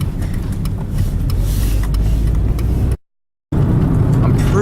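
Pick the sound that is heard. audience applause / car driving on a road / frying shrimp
car driving on a road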